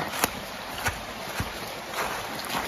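Near its source, the Vere river runs as a small stream down a wooded gorge, giving a continuous, fairly loud rushing wash with a few soft knocks.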